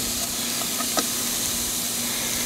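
Ham frying in a skillet, a steady close hiss and sizzle running throughout with a few faint pops, and nobody talking.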